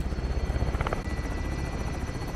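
Helicopter rotor chop in Call of Duty Modern Warfare 2's Plunder mode, a steady loud thudding drone with a brief higher whine partway through.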